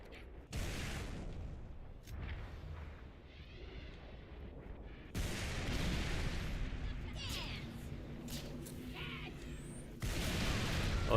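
Explosions and gunfire from grenade-throwing enemies in a Halo video game come as repeated heavy, roaring bursts and sustained booming battle noise, with voices talking throughout.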